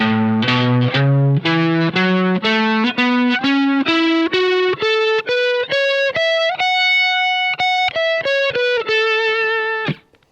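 Distorted electric guitar plays a major pentatonic scale pattern, a steadily ascending run of single notes, evenly picked, climbing from low to high and ending on a sustained note.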